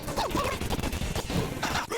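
Automatic weapons fire in the Persona video game, a dense crackling burst of rapid shots and impacts filling the whole moment, loud and continuous with no talk.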